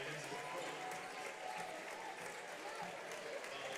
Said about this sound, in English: Gets all her seniors a round of applause as they depart.